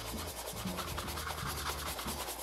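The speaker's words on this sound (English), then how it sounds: "Now I'm just gonna use the buffing brush." A buffing brush rubs shoe cream over new leather shoes, making a continuous close brushing and rubbing sound with quick, steady strokes throughout.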